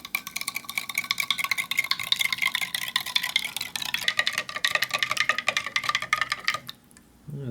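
Rehydrated ham omelet from a 1989 MRE being stirred and mixed, a fast run of scraping, clicking strokes close up that stops abruptly near the end, with no talk over it.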